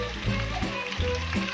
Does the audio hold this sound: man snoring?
no